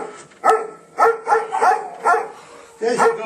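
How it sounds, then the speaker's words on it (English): Dogs in a podcast studio give several short barks and yips spaced irregularly, close and fairly loud, with a brief whimpering edge between them and no speech over them. "See, the dogs are here."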